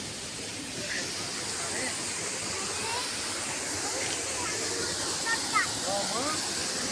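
A waterfall fed by water running down from the hills roars steadily and loudly close by, with faint voices and bird-like chirps barely rising above the rush.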